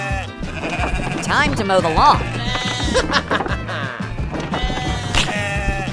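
A toy LEGO sheep bleats in repeated wavering cries over busy background sound and music, with a person talking throughout.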